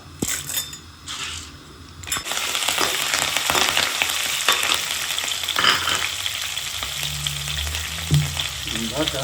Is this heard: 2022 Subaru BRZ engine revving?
no